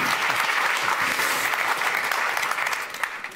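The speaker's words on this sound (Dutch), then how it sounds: "Geef hem een warm applaus" An audience at a televised Amsterdam municipal election debate applauds a candidate, a close, loud and continuous round of clapping that thins slightly toward the end.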